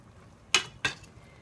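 Metal lid set onto a pot of chicken paprikash on the stove, giving two quick clanking contacts a fraction of a second apart, close and clear over faint kitchen background.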